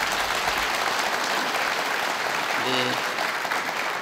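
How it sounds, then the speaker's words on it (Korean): Steady, dense applause from a large audience at a monthly official assembly fills the whole stretch, even and sustained at moderate loudness, with a voice briefly heard over it. "우리 박수 한 번 보내시죠."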